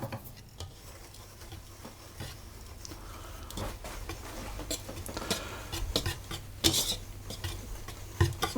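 Seeds and sugar are stirred together in a bowl, the spoon scraping in repeated gritty strokes, quiet at first and then a little louder, with a few sharper clinks near the end.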